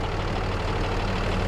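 A truck engine idles steadily and close by, a constant low rumble that stays even for the whole short stretch with no other sounds.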